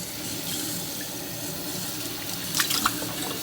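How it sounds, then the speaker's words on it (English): Tap water running into a sink while a coffee pot is rinsed, a steady close hiss of flowing water with brief splashing bursts near the end, no speech. "If you have any coffee at the bottom, you might want to rinse this out at this point."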